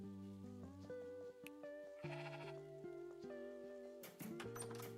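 Sheep in the farm video game Discounty bleating, a short quavering cry twice within five seconds, set against looping background game music with light percussive ticks near the end.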